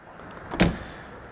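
The scissor door of a Lamborghini Countach 5000 QV is pulled down and shut, making one brief solid thunk that is fairly close and stands alone with no voices.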